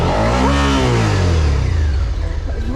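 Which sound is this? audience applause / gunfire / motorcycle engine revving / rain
motorcycle engine revving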